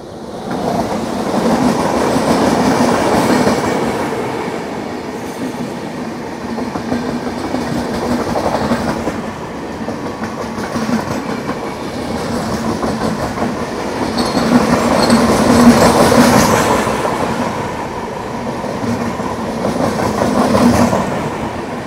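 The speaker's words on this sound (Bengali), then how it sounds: "হায়দ্রাবাদ ডেকান নামপল্লি থেকে শালিমারগামী ইস্ট কোস্ট এক্সপ্রেসের সাথে" The East Coast Express from Hyderabad Deccan Nampally to Shalimar roars past on the East Coast Railway, a loud, sustained rolling rumble with clattering wheels that swells midway, with no voices.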